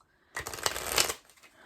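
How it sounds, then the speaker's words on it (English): A deck of playing cards is bridge-shuffled in one quick riffle lasting under a second, a crisp close flutter of cards rising out of near silence and ending abruptly. "I find the best way for me to shuffle cards is I shuffle it like this way, like the bridge, 3 times"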